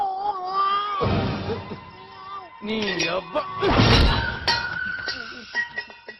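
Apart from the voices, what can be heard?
cat yowling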